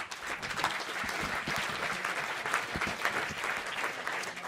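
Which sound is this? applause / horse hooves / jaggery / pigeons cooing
applause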